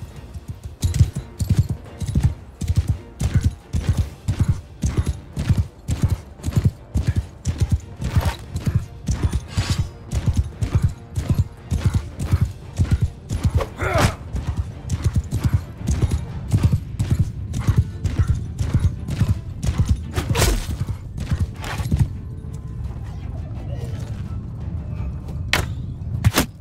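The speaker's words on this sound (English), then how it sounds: "Horse charge!" Cavalry horses gallop in a charge in a medieval battle game, with dense, rapid hoofbeat thuds pounding steadily and loudly for the whole stretch, a few sharp impacts and clatters landing on top of the rhythm.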